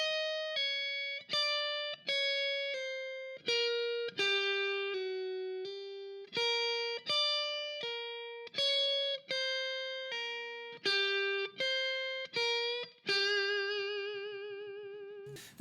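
Distorted electric guitar plays a full pentatonic lick as a steady string of picked notes with small bends, closing on a long vibrato-laden sustained note, clear and solo without other sounds.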